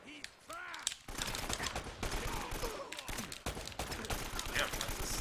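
Rapid AK-style gunfire from the action game Uncharted: Drake's Fortune rattles almost continuously after a brief lull, loud and busy, with a voice speaking over the shooting.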